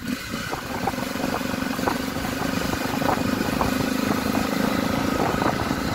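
A 2020 Honda XRE motorcycle engine idles steadily at night, a close, even mid-pitched rumble with light mechanical clatter and no talking.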